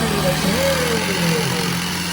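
A tractor engine runs steadily close by, a continuous low mechanical drone with a slight pitch drift, while people talk over it.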